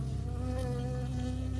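Sustained droning buzz of a bee hovering close by in the wilderness game Firewatch, a steady insect hum with a low rumbling undertone, alone and fairly loud.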